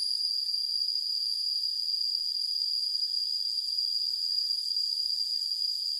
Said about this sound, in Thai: เสียงแมงง่วงแมงอีจักจั่นหรือจังไรเนี่ย